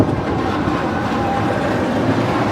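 The Big One roller coaster train at Blackpool Pleasure Beach rumbles along its track on a summer evening, a continuous broad roar from a moderate distance with no voices.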